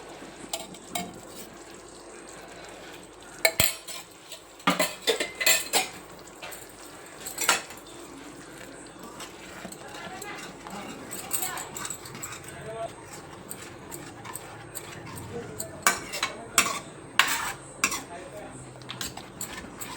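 Curd being stirred into an egg masala curry in a pan on low heat, with a spoon scraping and clinking against the pan in irregular bursts over a soft background; a person speaks at times.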